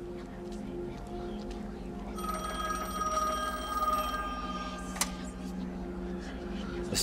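A telephone rings in The Medium video game, a bright trilling ring lasting about two seconds over a dim, steady background, followed by a single sharp click.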